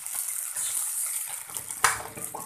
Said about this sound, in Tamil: அது கொஞ்சம் கம்மியாகவே ஊற்றிக்கலாம்